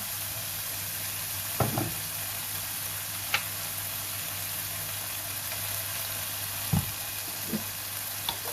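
Steady loud sizzle of glass noodles stir-frying with clams and chili paste in a hot pan, with occasional scrapes and clinks of the spatula, no voices.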